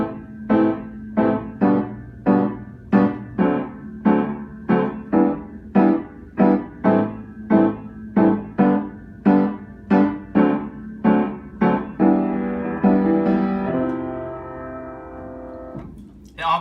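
A guitar strums the pre-chorus chords of a song in a steady, repeated rhythmic pattern, each stroke distinct, ending on a longer ringing chord that fades out.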